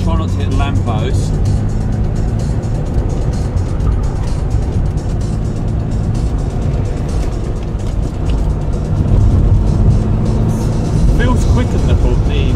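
Car engine roars steadily at speed while cornering hard around a ring road past a Tesco, loud continuous drone with tyre and road noise throughout, slight surge near the end.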